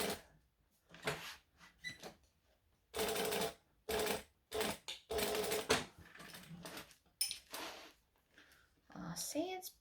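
A sewing machine runs in short bursts while stitching and backstitching a garment during alterations, rapid mechanical chattering starting and stopping repeatedly, close by, with a voice speaking in between.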